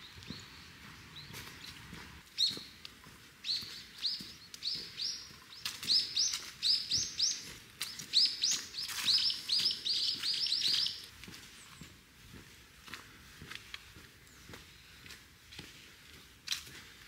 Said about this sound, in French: le chant des oiseaux, la nature.